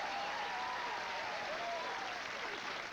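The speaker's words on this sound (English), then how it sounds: "Give him a big round of applause." A comedy-show audience applauds a comedian as he walks on, with dense, steady clapping that stays even for the whole stretch.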